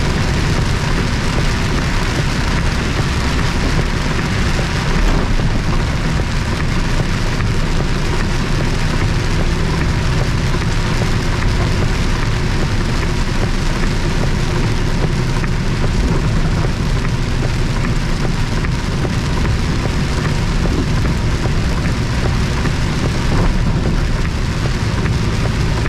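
Rain falls steadily on a truck on the road, a dense, unbroken wash of drumming noise with a low rumble underneath, constant and loud throughout with no voices.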